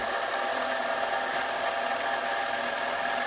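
A machine running at about 500 RPM, used for a tap-follower setup, gives off a steady, close, even mechanical whir with a faint rhythmic knock, with no other sounds present.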